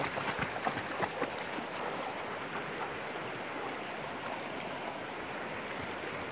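Steady rushing of a flowing stream, constant and fairly quiet, with a few light splashes early on.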